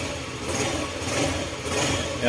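A Yamaha 125 scooter engine that had run dry of oil idles close by, sounding smooth and steady without knocking, over a brief stretch with no talk.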